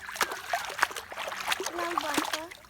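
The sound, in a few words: children splashing water in a pond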